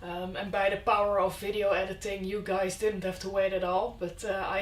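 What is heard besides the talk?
No everyday noise stands out behind the speech.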